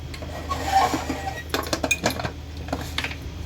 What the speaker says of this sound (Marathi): आता आपण याला झाकण लावून घेऊया